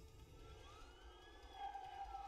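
A police siren arriving in A Way Out, a faint wavering wail rising over a low rumble for a couple of seconds, heard alone with no talking.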